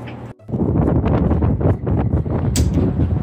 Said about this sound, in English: Crazy windy here.